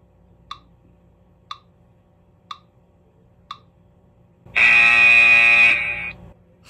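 An alarm sound from a timer in the original iPhone's clock app, an MP3 played on a loop: four short, evenly spaced beeps a second apart, then a loud sustained buzzing ring lasting about two seconds.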